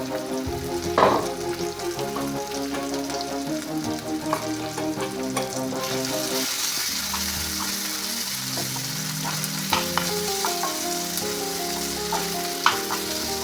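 Raisins sauté in a frying pan with a continuous bright sizzle and small crackling pops, steady and close throughout, without any voices.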